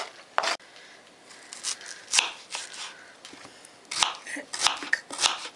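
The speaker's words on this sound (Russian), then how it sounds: "Крошим лук" An onion being finely chopped on a board for a cheese soup, with a series of crisp, irregular knife cuts and taps, some sharp and close, over quiet kitchen background.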